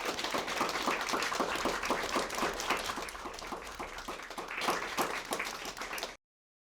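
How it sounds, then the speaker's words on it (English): Sustained audience applause at a panel discussion on ChatGPT in education with Danish and Chinese educators, dense clapping steady for about six seconds before cutting off abruptly. "Should we give them a more applause?"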